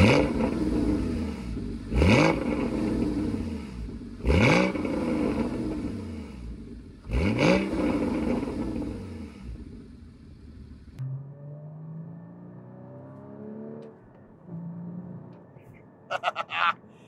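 A Porsche Cayman GT4 with a 3.8-liter engine accelerates hard through three loud revving pulls, each broken by a quick gear shift. The engine then settles to a lower, steadier drone before a few short clicks at the end.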